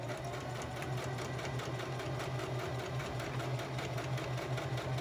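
A sewing machine stitching through a cased-pleat face mask, a steady close mechanical whir with a strong low hum and rapid even needle pulses running without pause the whole time.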